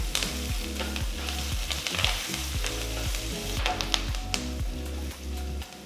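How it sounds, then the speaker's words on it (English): Mustard seeds, cumin, asafoetida, curry leaves and chopped ginger sizzle in hot oil for ragi upma, a close steady frying hiss with sharp spitting pops, alone and moderately quiet, under a faint repeating background tune. "Add a pinch of asafoetida powder, a few fresh curry leaves and a piece of finely chopped ginger and saute it."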